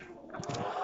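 Chickens cluck softly in a winter coop, a brief, faint burst of a couple of low clucks rising near the end.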